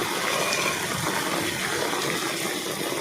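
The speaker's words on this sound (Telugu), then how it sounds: "వర్షం నీళ్ళు ఏ విధంగా వస్తున్నాయో చూడండి" Rainwater gushes steadily into soak pits dug in front of a house, a continuous loud broadband rush of flowing water with no break and no voices.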